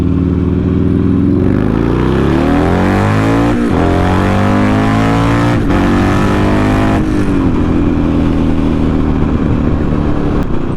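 A Buell XB9S street fighter motorcycle accelerates hard up to road speed, its engine rising in pitch through several gear shifts with brief dips between, loud and close throughout.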